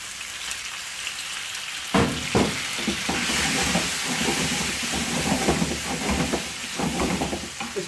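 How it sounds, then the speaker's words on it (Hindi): Chicken, 500 grams, dropped into a pot of browned garlic and frying, a sudden loud hiss that settles into a dense, steady close sizzle with crackles, no talk. "इसको थोड़ा फ्राई कर लेते हैं।"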